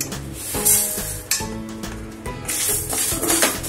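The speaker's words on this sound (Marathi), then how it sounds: "आपण आता हे आपलं डाळ तांदूळ अर्धे भाजून झालेले आहेत, आपण हे काढून घेऊया। उरलेले आहेत ते भाजून घेऊ।" Lentils and rice for bhajani being dry-roasted in a pan, a soft sizzle and rustle with metal clinks and scraping of a spoon against the pan, close and moderately loud, with no talking.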